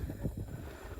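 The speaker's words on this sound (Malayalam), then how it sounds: "നല്ല കാറ്റുണ്ട് കേട്ടോ" Strong wind buffeting the microphone at night in the desert near Dubai, a steady low roaring rumble with gusty surges, close and loud, with no talk.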